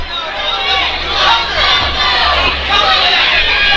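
A restless crowd at a Fight Lab MMA event shouts and calls out loudly in a steady, dense roar of overlapping voices, with a low hum running underneath.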